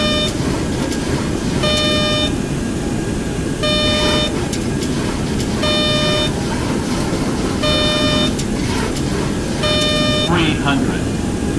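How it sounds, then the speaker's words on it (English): Repeated electronic beeps in short tonal bursts, about every two seconds, sit over a steady loud engine rumble and background noise in a 727 cockpit in the X-Plane 11 flight simulator, signaling the speed brakes are up. "You will hear a beeping noise when I do this because it's just letting me know that they're up."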